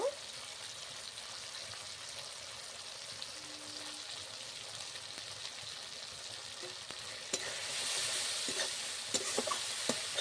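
Spice paste with turmeric sizzles and fries in a pan while being stirred, a steady crackling hiss with scraping strokes, growing louder and brighter near the end with a few sharp knocks.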